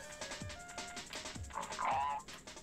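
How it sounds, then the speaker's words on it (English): A frog in the Sabrina: A Twitch in Time game croaks in a quick series of short, sharp calls, closely spaced and fairly near, with a brighter warbling tone toward the end; no talking. "Oh, there's a frog."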